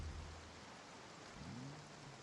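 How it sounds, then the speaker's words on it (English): Steady broadband rain hiss in the video game Project Zomboid, a continuous quiet wash with a low rumble underneath and a brief rising tone near the end, no talking. "since it's raining, and I'm assuming it's gonna still be raining tomorrow morning"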